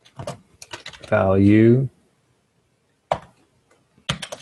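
Several crisp, close keyboard clicks come in short isolated taps as code is typed on a computer, following a brief spoken word.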